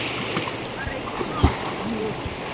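River water flows and splashes along the Kabayaoasan River in Aguilar, Pangasinan, a steady rushing wash with a sharper splash near the middle, close by under outdoor ambience.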